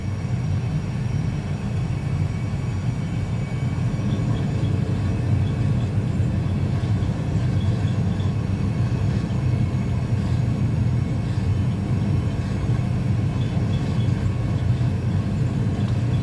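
Airbus A320 engines at takeoff thrust in a flight simulator game: a steady, loud, unbroken low roar and rumble with a faint high whine, continuous throughout with no talk.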